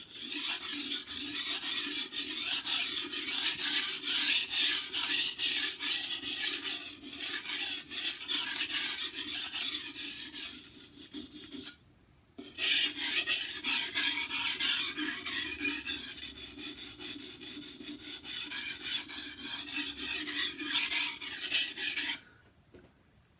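A kitchen knife is sharpened by hand to remove the burr, giving steady rhythmic rasping strokes on the stone, close and continuous. The strokes pause briefly twice and there is no talking.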